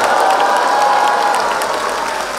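Audience at a school cultural day event applauding, a short dense round of clapping from a large crowd with some cheering.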